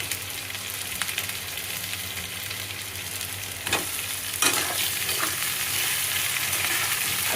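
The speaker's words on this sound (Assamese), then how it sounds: "ইয়াতে মই আলুখিনি দি দিম এতিয়া।" Diced potatoes sizzle steadily in hot oil in a pan, with a louder burst of frying and scraping stirs midway as the pieces settle, continuing as a dense, close crackle with no talk.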